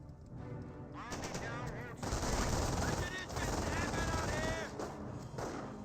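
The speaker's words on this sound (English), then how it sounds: "Squad is taking small arm fire." Bursts of small arms fire in Company of Heroes, a World War II strategy game, with rapid machine-gun rattles and overlapping shots that rise and fall in dense volleys over several seconds.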